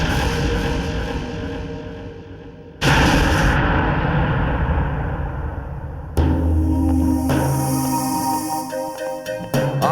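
Gunfire in a Bengali CID police crime drama, with several loud reports and bursts over dramatic background music, including a sharp blast near the start and another heavy burst midway, no voices heard.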